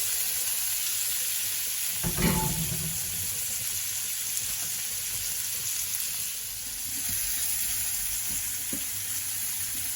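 Sweet pepper, onion and tomato sauté in a pan left hot from searing steak. An even, close sizzle runs the whole time, with one clear utensil clank early on and a few faint scrapes later.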